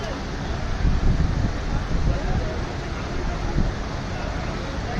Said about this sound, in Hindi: जो ठंडी ठंडी हवा चल रही है ना